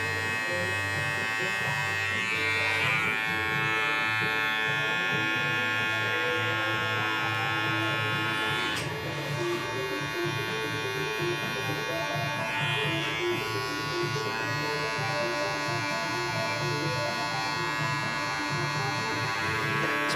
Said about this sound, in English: I'm just using the ends of my clipper